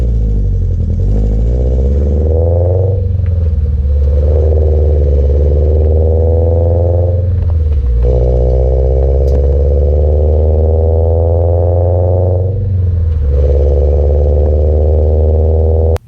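A Subaru BRZ/Toyota FRS with catless headers is driven gently below 3,000 RPM, its loud, close, droning engine note rising steadily through each gear and dipping briefly at three shifts, with no talking.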